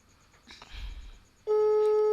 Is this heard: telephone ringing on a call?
yes